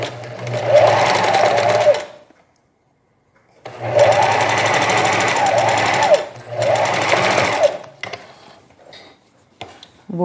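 A domestic knitting machine stitches a seam on knit fabric in two long loud whirring runs and a shorter third, with brief pauses and a few small clicks between them.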